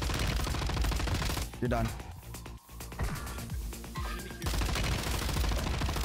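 Rapid automatic gunfire from a no-recoil weapon in Call of Duty Warzone on Ashika Island, loud bursts filling most of the clip with a short lull in the middle, and someone speaking briefly over the shots.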